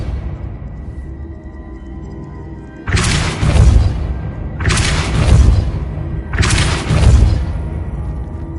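Three Depulso spell blasts in Hogwarts Legacy, each a loud booming burst with a bright crackling tail, evenly spaced about two seconds apart after a quiet opening.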